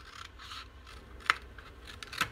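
Paper being trimmed with scissors while making a winter journal folio, faint room tone broken by two sharp, quick snips close by, alone without speech.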